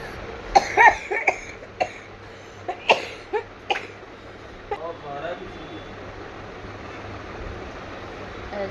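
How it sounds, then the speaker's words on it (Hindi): Several sharp coughs in a row, close by, followed by quieter background noise. "खांसी हो रही है"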